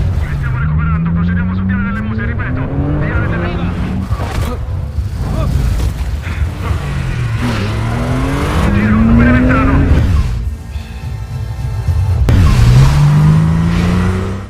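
A car spinning sharply around during a film chase, its engine revving with rising whines while tires squeal and skid, loud and close, over dramatic background music and a brief voice.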